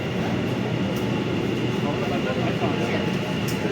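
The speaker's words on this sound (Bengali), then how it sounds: "এই যে মেট্রো ঢুকছে" A metro train pulls into Howrah underground station, a loud steady rumble and roar of rail cars filling the platform throughout, with brief squeals and a voice speaking over it.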